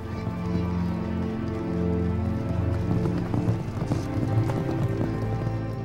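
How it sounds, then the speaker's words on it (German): Horses gallop at a race in Ludwigslust, giving a rapid, dense drumming of hooves under a steady music-like tonal bed that holds loud and even throughout. "Pferderennen in Ludwigslust."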